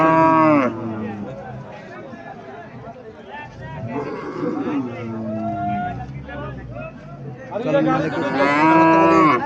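Lean Sahiwal cows at a crowded cattle market in Cumilla low repeatedly, with long drawn moos near the start and end, while people talk nearby.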